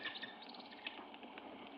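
A bird beating its wings in a faint, continuous fluttering rustle, soft and steady for under two seconds with no voices.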